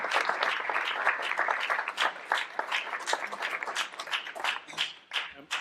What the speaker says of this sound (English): I would thank you for your applause for my fellow panelists